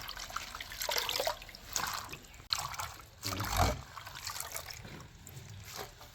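Malabar spinach greens being washed by hand in water, with irregular splashes, trickles and drips rising and falling in short bursts, fairly close and moderately loud.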